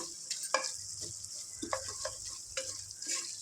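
Ginger garlic paste with turmeric fries in a pan, giving a soft steady sizzle with occasional light scrapes of stirring, close but quiet, with no talking.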